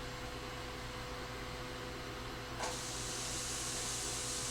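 A steady hiss of diced green bell peppers and yellow onion frying in oil in a pan, which jumps to a brighter, louder sizzle partway through as more goes into the hot oil.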